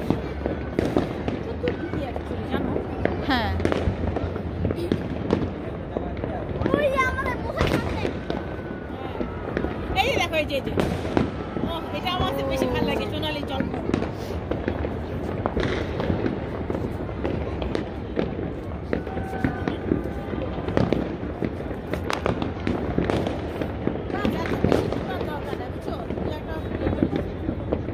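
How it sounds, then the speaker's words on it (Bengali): Fireworks burst over Mirpur during a night celebration, with repeated cracks and booms scattered throughout at a moderate distance, mixed with ongoing chatter and crowd noise. "আতশবাজি।"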